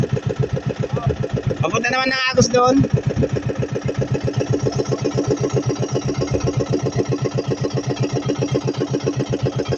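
Boat engine idling steadily and loudly throughout, a fast regular chug on a fishing outing for crabs, with someone speaking briefly over it near the start.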